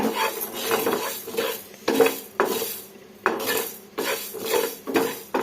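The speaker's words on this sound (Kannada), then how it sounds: "ಈ ಥರ ನೀಟಾಗಿ ಫ್ರೈ ಮಾಡ್ಕೊಳ್ಳೋಣ." A metal spoon stirs and scrapes in a pan on low heat while making chutney. It gives repeated clinks and scraping strokes in an uneven rhythm, with a faint sizzle underneath and no talk.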